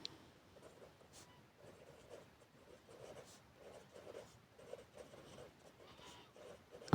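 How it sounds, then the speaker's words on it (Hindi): A pen scratches out a maths equation by hand in steady, close, quiet strokes that come in short repeated bursts through the whole stretch, with no talking. "अब इसकी एसोसिएटेड इक्वेशन लिखेंगे।"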